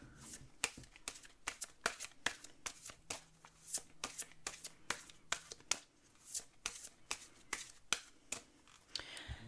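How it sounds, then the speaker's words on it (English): Rapid crisp riffling of a deck of oracle cards being shuffled, with repeated sharp flicking bursts over quiet room tone, close and clear. "I'm going to go ahead and shuffle the cards"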